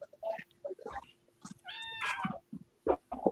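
A young kitten meows several times indoors, short close calls scattered among quieter rustles, with one longer, tonal mew in the middle and brief faint sounds between.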